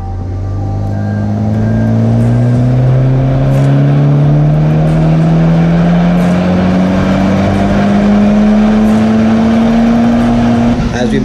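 A Honda FK8 on a dyno roars continuously at full load, its engine note climbing smoothly and steadily in pitch through one long, loud pull.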